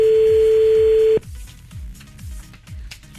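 A telephone rings once during a call to the C'Cauet show on NRJ radio, a steady electronic tone that cuts off abruptly, followed by a soft rhythmic pulsing line noise.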